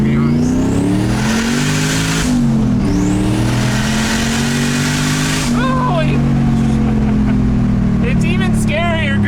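A Nissan Cefiro with a K-swap engine revs hard and loud up through the gears, with a brief drop between shifts, while an occupant briefly exclaims over the engine roar.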